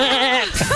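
A voice imitates a goat's bleat, producing a loud, quavering, nasal 'baa' that wobbles in pitch for under a second.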